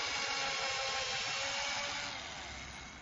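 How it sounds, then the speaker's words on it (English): Power drill boring holes into a 2x4 wooden board, a steady whirring grind heard close and continuous, tapering slightly toward the end with no one talking. "Now help me drill some holes in it so we can place the bolts."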